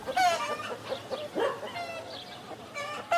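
Hens clucking and squawking in short, irregular bursts, fairly close, with quiet background between calls.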